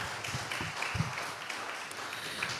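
An audience at a medical school white coat ceremony keeps clapping, the applause faint and distant, with a few scattered louder claps and murmured voices in the hall.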